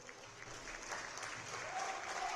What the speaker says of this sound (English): Seniors getting a round of applause.